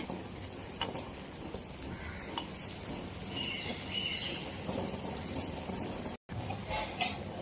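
Mixed-lentil dal appe roast in an appe pan with a continuous close sizzle and occasional scraping of a utensil, a short break in the sound before a louder clatter near the end.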